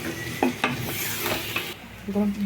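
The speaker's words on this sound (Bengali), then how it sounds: "সম্পূর্ণ চালের সাথে গোস্তটা ভালো মতো মাখাবো।" A spoon scrapes and stirs beef and rice together in a pot for tehari, with repeated knocks against the pot over a light sizzle.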